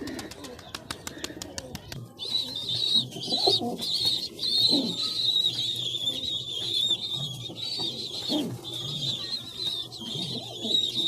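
Pet pigeons with two young chicks, soft repeated cooing and low murmuring calls close by, over a faint steady high-pitched background hum.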